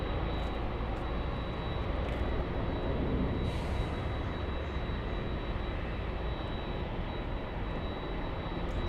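Airliner holding short of runway 24 Left at LAX, its engines a steady, loud broadband roar that fills the whole stretch without letup, with a faint whine riding above the rumble.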